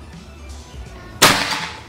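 A single sharp crack rings out from a PCP Bocap Predator 460cc air rifle during a long-range accuracy test, sudden and close after near silence.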